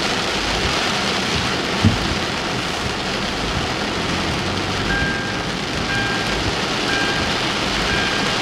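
Heavy rain from Tropical Storm Debbie pours steadily around a vehicle in Hudson, Pasco County, Florida, a dense, even wash of noise with a faint electronic beeping briefly audible partway through.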